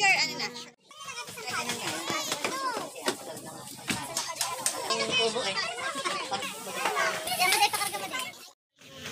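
Children play and shout at a swimming spot at a Little Boracay resort, a lively, continuous crowd of young voices calling and laughing close by, with brief dips in the noise.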